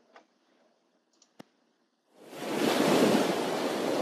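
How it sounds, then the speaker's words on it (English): Ocean waves breaking on a coastline, played back from a video: a few faint clicks, then a loud, broad rush of surf swells in and holds steady. "waves break at the coastlines, sometimes strong, sometimes weaker"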